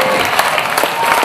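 Crowd applause at a chilli eating contest in Dorset, a steady, loud wash of clapping with a few faint voices mixed in, lasting just over a second.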